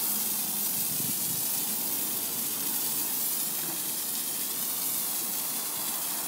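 Pressure washer nozzle sprays water in a steady, loud hissing stream to rinse down a building, running continuously with no breaks.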